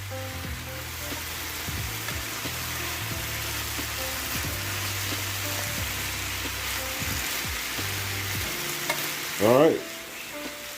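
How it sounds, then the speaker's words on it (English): Beef, peppers and onions sautéing uncovered in a pan make a continuous close crackling sizzle with a low background hum, a brief burst of louder spattering near the end, and a short spoken phrase over it. "we're going to continue to let this saute for a little bit with the lid off"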